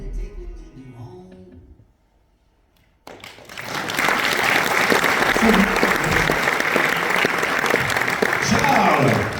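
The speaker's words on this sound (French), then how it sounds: "Applaudissez, mesdames, mesdemoiselles, messieurs, Charles Potier." A crowd applauds at an evening motorcycle festival contest, loud sustained clapping bursting in after a quiet pause and continuing steadily, with some talk beforehand.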